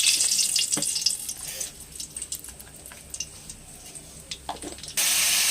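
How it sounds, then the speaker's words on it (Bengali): Black cumin seeds and dry chillies hit hot oil in a kadai for a tempering, giving a crackling sizzle with small pops that rises and grows dense and steady toward the end. "এবার তেলে ফোড়নগুলো দিয়ে দিই।"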